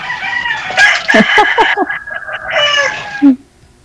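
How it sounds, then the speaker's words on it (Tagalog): Many chickens with a rooster crowing, several close, bright clucks and squawks in a quick run followed by a longer crow, with faint noise behind and no talking. "Aruroy, ang daming manok."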